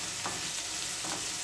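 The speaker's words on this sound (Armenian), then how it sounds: "Ահա, մանր կտրատած սոխը տապակում եմ" Finely chopped onion fries in a pan, giving a steady, close sizzle with a couple of faint stirring scrapes and no talk over it.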